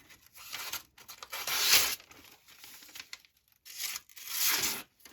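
A Spyderco Para 3 Lightweight knife slices through thick double-walled cardboard box material, giving two rough tearing strokes with a short pause between, close and fairly loud with no talking.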